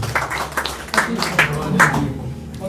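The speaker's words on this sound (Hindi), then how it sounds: "तालियां होनी चाहिए दोस्तों।" Audience at a Hindi-Urdu poetry gathering welcomes an arriving guest with a short burst of hand clapping, a handful of distinct sharp claps over a few seconds under a murmuring voice and room noise.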